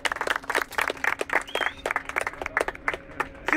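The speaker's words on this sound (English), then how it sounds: "Okay, chaps. Give him a round of applause." A small group of men applauding, a brisk burst of close, rapid hand claps lasting a few seconds, with a faint voice in the background.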